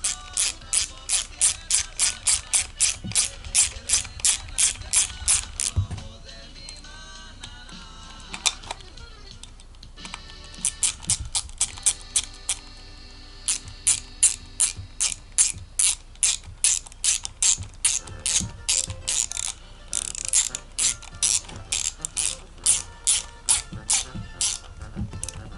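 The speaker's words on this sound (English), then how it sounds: "Hand tighten the bolts first and then tighten it up with the wrench." A ratchet wrench tightens throttle body bolts on a 2000 GMC 5.3 V8, with long runs of rapid, evenly spaced clicking that pause and resume, loud and close, with no talk.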